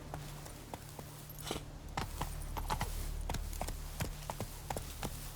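A horse's hooves clip-clop at a walking pace in the video game The Witcher 3, fairly faint, with scattered taps and a low background hum.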